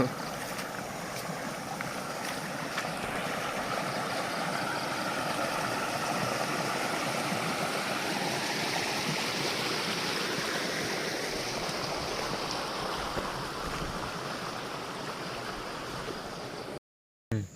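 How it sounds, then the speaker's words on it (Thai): A waterfall somewhere in the countryside, on an early-morning mushroom hunt, roars in a steady, broad rush of falling water. It stays close and constant throughout and ends in a brief cut near the finish. "เสียงน้ำตกนะพี่น้อง"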